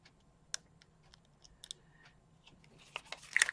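Small, crisp snips and clicks scattered through a quiet room, growing busier and louder toward the end.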